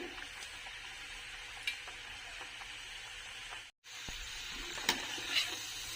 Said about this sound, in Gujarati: આ રીતના આકરા તળવાના છે પીંડિયા